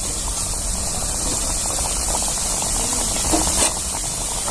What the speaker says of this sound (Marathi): तर आता आपण सगळे बिस्किट असे तळून घेऊया सिल्वर कलरमध्ये सगळे तळून घ्यायचे